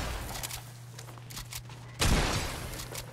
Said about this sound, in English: a pump shotgun? Oh my god, when is the last time I've heard one of those?